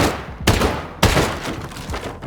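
In Rust, two sharp gunshots crack out about half a second apart at close range as twig walls are shot out, each followed by a rumbling decay and a faint thud afterward.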